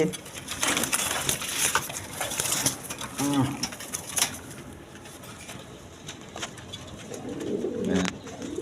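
A caged pair of Pomeranian pouter pigeons coo in soft, low, throaty bursts, one near the middle and another toward the end, while someone talks over them.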